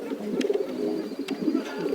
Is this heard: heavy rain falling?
no